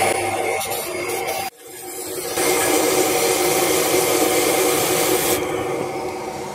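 A vacuum cleaner hooked to a 90-litre sandblaster runs with a loud, steady broadband roar and hiss, briefly dropping out then surging back stronger and holding close and continuous.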